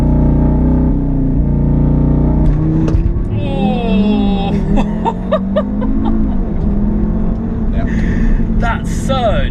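A hot hatch, a Volkswagen Golf R or Audi RS3, roars and revs up hard in a launch from a stop, with gear changes and people exclaiming over the rising engine note.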